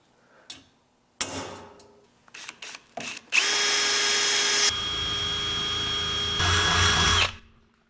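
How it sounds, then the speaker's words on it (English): A few clicks and knocks, then a power drill whirs steadily for several seconds, shifting pitch slightly before spinning down and stopping. "with that hole drilled"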